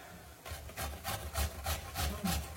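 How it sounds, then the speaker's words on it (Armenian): Two medium potatoes are grated by hand on a grater, a steady rhythmic back-and-forth rasping with about eight close strokes, no talking. "երկու միջին չափի կարտոֆիլ եմ վերցրել, երկուսն էլ որոշեցի, որ պիտի քերեմ"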